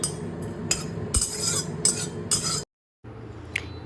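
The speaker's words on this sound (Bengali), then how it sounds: "অল্প একটু কাসরি মেথি শুকনো খোলায় নেড়ে নিতে হবে" Kasuri methi is dry-roasted and stirred in a dry wok, giving a run of light scraping and metallic clinks in short bursts, then a brief silence before quieter stirring resumes; no talk.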